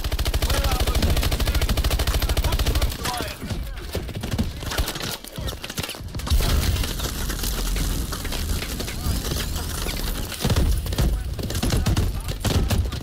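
Rapid bursts of automatic gunfire rattle through a Call of Duty: Advanced Warfare firefight, dense and loud for most of the stretch, with crashes and battle noise mixed in and a voice briefly heard.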